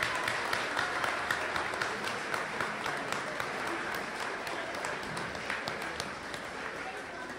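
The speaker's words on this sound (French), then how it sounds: "je vais demander de la remercier gracieusement de vos applaudissements" An audience at a Walloon cabaret evening claps together in warm applause. The clapping is brisk and even, at a moderate distance, and tapers slightly over several seconds.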